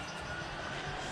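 A garbage truck passes nearby outside, near a mobile chicken coop on open ground, giving a steady, fairly loud broadband engine rumble throughout with no talking.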